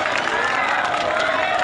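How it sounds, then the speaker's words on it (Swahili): Crowd applause and cheering at a political rally in Kenya, a steady dense wash of clapping lasting throughout, loud and close, with voices mixed in. "mpigeni makofi"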